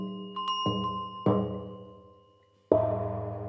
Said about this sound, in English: That's the cymbal as well, but a little bit different, and then the Noah bell.